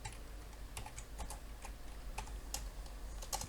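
Keystrokes on a computer keyboard while C# code is typed, a soft irregular run of clicks and taps close by over a steady low hum, with no talking.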